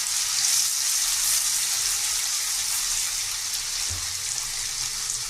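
Ginger-garlic paste frying in hot oil for palak paneer, a steady close sizzle and hiss with a faint bump partway through. No one speaks.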